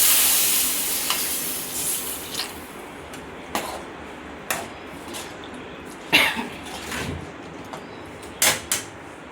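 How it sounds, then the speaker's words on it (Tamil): Potatoes sizzle in hot oil with a steady frying hiss for an egg curry, punctuated by occasional scraping and clattering from stirring. "நல்லா எண்ணெயில் வதக்கிட்டு"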